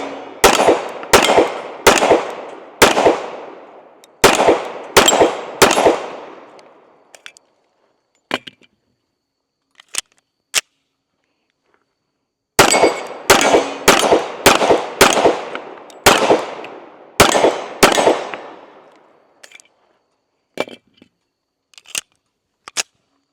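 Springfield Emissary 1911 pistol firing two strings of about six sharp, loud shots each, with echoing tails, separated by a pause, followed by scattered faint clicks and metallic handling noises.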